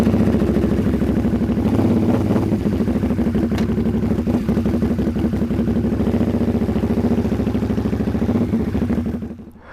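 A Harley-Davidson V-Rod motorcycle engine runs steadily nearby, a loud, throbbing, even rumble with a rapid pulsing beat that holds constant and then drops away at the very end, no voices over it.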